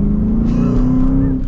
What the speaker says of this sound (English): got the V8 noises.